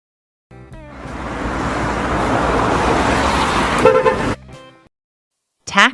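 A taxi sounds its horn over loud road and engine noise, with one long blast amid the traffic roar and a short honk after a brief pause.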